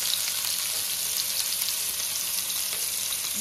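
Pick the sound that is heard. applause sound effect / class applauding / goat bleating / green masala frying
green masala frying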